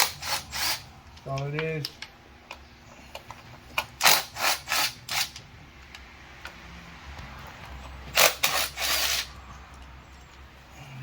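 A ratchet loosens 8mm valve cover bolts on a 2.3L Ford Fusion engine, short clusters of clicking bursts with pauses between them and a few quiet spoken words.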